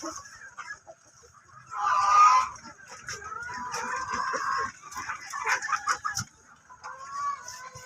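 Native chickens kept by a poultry raiser cluck and squawk nearby, with one louder call standing out among scattered softer calls and a little background shuffling.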